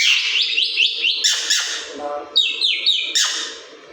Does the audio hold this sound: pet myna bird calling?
yes